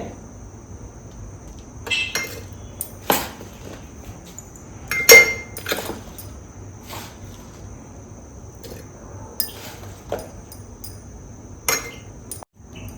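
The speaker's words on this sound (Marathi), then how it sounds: "आता आपण लोणचं बर्नीत भरून घेऊया" Green chilli pickle spooned into a glass jar, giving scattered clinks and taps of a spoon against glass over a quiet room hum, some louder knocks and a few softer scrapes spread irregularly throughout.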